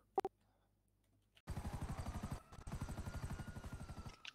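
A helicopter in GTA V beats with fast, loud, rhythmic rotor thumps close by for about three seconds, following a couple of brief clicks and a short pause.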